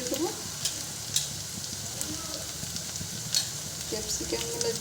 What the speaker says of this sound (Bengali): পেঁয়াজটা অর্ধেক ভাজা হয়ে গেছে, এবার আমি ক্যাপসিকামগুলো দিয়ে দেবো।